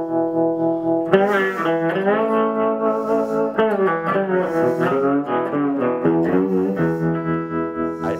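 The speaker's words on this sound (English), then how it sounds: "I'm going to add something that was a common effect in the old days, called a tremolo" Electric guitar plays a twangy melodic phrase with a wavering, pulsing volume, steady rhythmic throbbing running through sustained notes, no voices.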